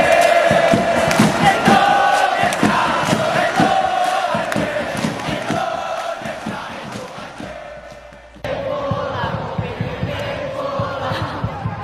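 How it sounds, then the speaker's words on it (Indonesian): Indonesian football supporters chant the Upin Ipin cheer as a crowd, a loud rhythmic mass of voices with steady pulsing beats, briefly cut off near the end and then resuming at a slightly lower level. "Dan yang terakhir ialah sorakan Upin Ipin."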